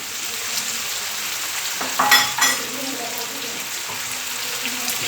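Chayote (sayote) being stir-fried with vegetables in a pan for Kapampangan miki, a steady sizzle with a brief clatter of stirring or tossing near the middle.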